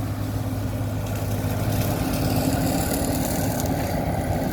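A Kubota KX91-3 mini excavator, rigged to cut grass and coconut fronds, runs with a steady, loud diesel drone and low rumble throughout, close by and without talk.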